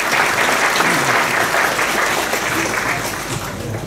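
Audience applause at a concert hall event, a loud, sustained wash of many hands clapping that holds steady and then eases slightly toward the end, with no other sound on top.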